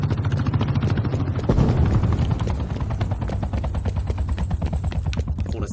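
A helicopter in the video game Call of Duty: Black Ops Cold War gives a loud, continuous rotor thumping with a steady, rapid beat that carries throughout.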